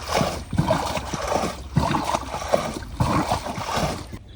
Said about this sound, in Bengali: তো ডুবা থেকে নৌকা পুকুরে নিয়ে আসা হয়েছে